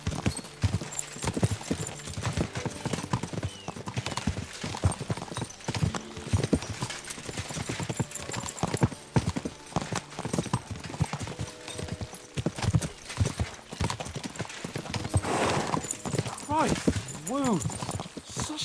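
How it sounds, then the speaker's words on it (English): Horses galloping in the video game Kingdom Come: Deliverance 2, with a rapid, steady clip-clop of hooves and occasional whinnies throughout, mixed with voices talking over the hoofbeats. "We should spur the horses on."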